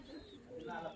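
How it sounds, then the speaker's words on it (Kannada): A breeding pair of pigeons in a loft coo softly and faintly for about a second, low murmuring calls over a quiet background. "Thomas lineage beautiful birds."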